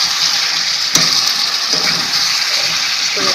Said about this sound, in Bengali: আমাকে একটু জল দিতে হবে যাতে আলুটা আরো ভালোভাবে সেদ্ধ হয়ে যায়